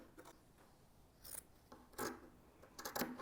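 Scissors snipping through fabric strips for a no-sew infinity scarf, a few quiet, close crisp cuts spaced irregularly over a faint background.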